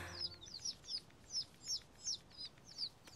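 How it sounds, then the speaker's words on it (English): Cartoon ducklings give a rapid series of high, faint chirpy peeps, about eight short calls in a fairly even rhythm. "Nice quacking, Benjamin!"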